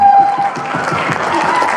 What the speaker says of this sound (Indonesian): Tepuk tangan buat mama papa kita yang luar biasa.